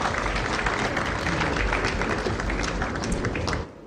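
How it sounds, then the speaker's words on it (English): Sustained audience applause at an awards launch ceremony, dense steady clapping filling the hall for about three and a half seconds before cutting off abruptly. "please help me appreciate him with another big round of applause"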